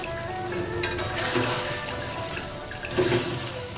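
Soybean chunks fry with spices and potato for a Bengali-style soybean potato curry, producing a continuous close sizzle with occasional sharp clatters and stirring scrapes.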